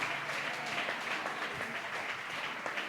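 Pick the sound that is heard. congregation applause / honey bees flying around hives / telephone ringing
congregation applause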